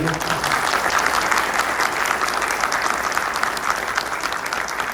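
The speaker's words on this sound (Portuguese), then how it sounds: "peço a todos eles uma salva de palmas" A conference audience at a summit gives sustained applause for the panel, a dense, steady clapping that fills the room for the whole stretch, with some crowd murmur mixed in.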